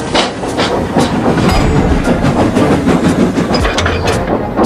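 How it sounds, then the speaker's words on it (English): Steam engines, two small tank engines buffered up behind a train, pull hard along the rails, a loud steady rumble with rhythmic clickety-clack of wagons and occasional hiss, no voices. "Edgar and Hazel buffered up to the back of the train and pulled hard, bringing Gordon back to safety."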